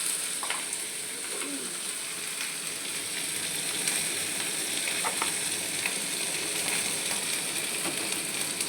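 Diced potato and eggplant fry in oil with cumin, mustard seeds and chili, giving a steady close sizzle and hiss with occasional light stirring scrapes throughout.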